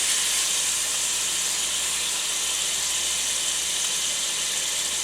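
Smothered pork chops sear in a hot pan with a loud, steady, unbroken hissing sizzle. No talking is heard.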